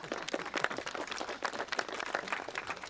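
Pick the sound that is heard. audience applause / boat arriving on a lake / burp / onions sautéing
audience applause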